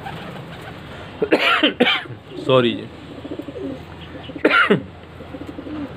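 Soft round-bodied flying pigeons coo in a few short, breathy bursts close by, mixed with throat sounds and a cough, while someone speaks briefly over them.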